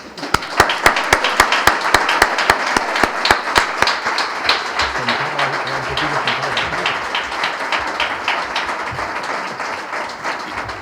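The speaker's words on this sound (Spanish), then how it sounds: "acabamos con un fuerte aplauso" Audience at the closing session of a conference on hate speech claps loudly, starting with sharp, rhythmic unified claps that loosen into a dense, steady ovation lasting the whole stretch, with a brief murmur of voices underneath midway.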